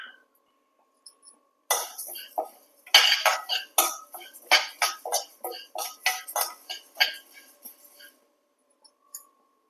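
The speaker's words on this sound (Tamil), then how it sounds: "ஸ்டவ் ஆன் பண்ணி கடாய் வச்சுட்டு 1 கப் கருப்பு உளுந்த நல்லா பொன்னிறமாக வறுத்துக்கோங்க." Black urad dal dry-roasting in a kadai, the hard lentils rattling and scraping in repeated short bursts of clinking, close and fairly loud, with quiet gaps between stirs.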